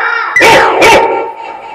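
A dog barks twice in quick succession, loud and close, with the two sharp barks sitting over a steady tonal background of voice or other sound.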